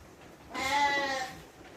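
A female sheep on a fattening farm gives one clear, close bleat of about three-quarters of a second, standing out from a quiet barn background with no talk over it.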